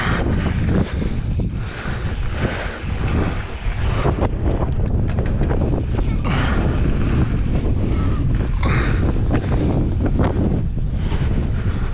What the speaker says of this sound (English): Super windy, holy crap.